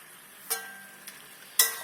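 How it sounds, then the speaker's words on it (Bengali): Meat being stirred in a wok, a quiet sizzle broken by a few sharp scraping knocks of the spoon, close and brief. "একটু কড়াই করে নেড়ে নিই"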